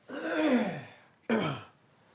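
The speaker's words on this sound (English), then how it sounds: "I got a cough" A single throaty cough burst, then a second shorter one after a brief pause, close and fairly loud with no talking.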